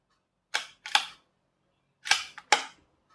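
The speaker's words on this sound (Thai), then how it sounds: "ดูจากเสียงในการกระชากลูกเลื่อนนะครับ" Four sharp mechanical clacks in two quick pairs, a bolt-action rimfire rifle's bolt pulled back and slammed forward twice, crisp and close with silence between.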